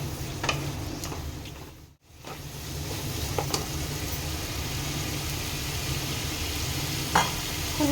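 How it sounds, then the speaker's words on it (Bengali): Mutton sizzles and is stirred in a pan, a steady loud frying hiss with scattered scraping strokes of the spoon throughout and a brief break near the start. "এবার এটাকে আমি ভালো করে কষিয়ে নেব।"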